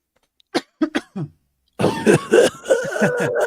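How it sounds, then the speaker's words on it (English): Several short, sharp coughs in quick succession, followed by a louder, longer stretch of coughing and throat noise close to the microphone. "let me cough into the microphone one more time"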